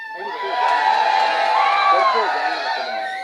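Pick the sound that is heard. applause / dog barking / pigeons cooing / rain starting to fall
applause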